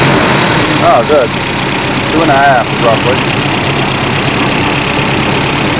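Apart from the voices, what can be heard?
car engine started and idling after fuel pressure regulator install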